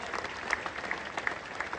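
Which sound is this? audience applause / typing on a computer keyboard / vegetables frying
audience applause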